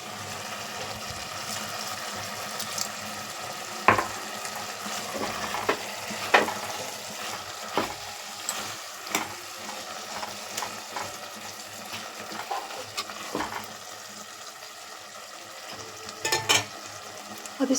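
Okra curry sizzles and frys in a pot while a spoon stirs it after water is added, a steady hiss with scattered scraping clinks of the utensil throughout, close and moderately loud with no talking.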